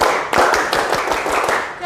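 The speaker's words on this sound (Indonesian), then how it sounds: "Kita berikan aplaus untuk Miftah." An audience bursts into dense, close applause at a trainer certification session, loud and sustained for nearly two seconds before tapering off.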